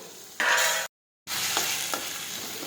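Chopped tomatoes sizzle in hot oil for a sev tameta curry while a spoon stirs the pan, a bright crackling hiss broken by a short silent gap, with scraping strokes afterwards.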